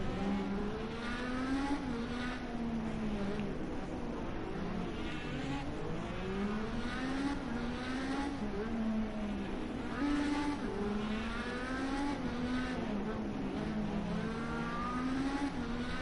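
An IndyCar engine in a racing video game, on the street circuit at Long Beach, buzzes hard against its rev limiter, a loud, steady high-pitched drone that wavers up and down as it bounces off the cutoff.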